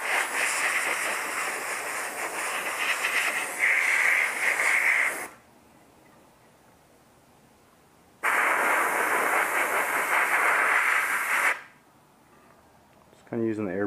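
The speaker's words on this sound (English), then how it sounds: "Just kind of using the airbrush as air to quick dry some of those spots." An airbrush blows air to quick-dry Duracoat paint on an AR rifle in two steady, close hissing bursts separated by quiet gaps, followed by a brief voice at the end.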